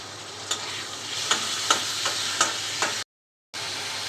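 Chicken pieces fry in a pan with chopped carrots and onions, a steady close sizzle broken by soft rhythmic stirring clacks, then cut off by a brief gap of silence.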